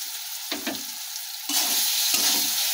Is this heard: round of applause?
no